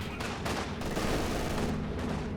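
Dense light machine gun fire from Company of Heroes 2 gameplay rattles in continuous bursts, loud and busy with overlapping battle noise and no speech.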